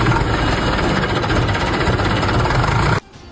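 An old Hindustan 50 tractor engine runs loud and close with a steady diesel chug and rattling knock for about three seconds, then cuts off abruptly into near quiet.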